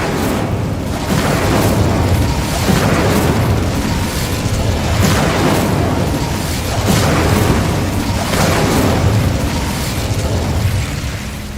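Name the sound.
Incendio fire spell in video game Hogwarts Legacy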